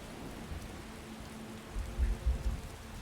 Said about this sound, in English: Look at all this rain.